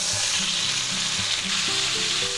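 A chuck roast sears loudly in a hot pan with rosemary, a dense, close, continuous sizzle and crackle with no voices over it.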